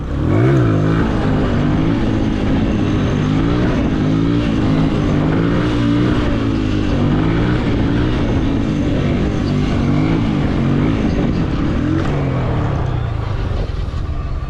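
An RTR 2V motorbike engine revs hard and continuously during a wheelie stunt, a loud close buzzing drone with rising and falling pitch, wind rumble throughout.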